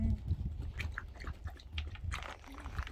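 Puppies crunch and chew kibble from bowls, a quiet, close patter of irregular bites and small clinks with no talking.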